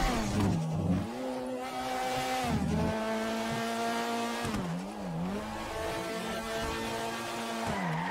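A video game car engine in GTA revs up and down like a VTEC Honda Accord, its pitch climbing through gear shifts, loud and close with no talking.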